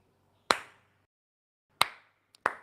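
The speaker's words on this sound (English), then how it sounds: "clapping his hands." Sharp hand claps: one clap, a long pause, then a clap followed by a quick faint tap and another clap, each crisp and close in a quiet room.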